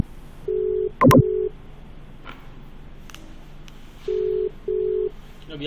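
Telephone keypad tones sound while a call is placed: several short steady beeps spaced apart, with one loud click near the start. The line is otherwise quiet and nobody speaks.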